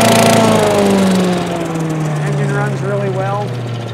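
Small engine on a lawn tractor starting up and running, loud and close, pitch easing down from a high start into a steady drone.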